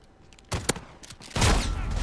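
Model 680 shotgun fire in Modern Warfare, with sharp, loud, close blasts followed by a booming report that carries into an echoing tail.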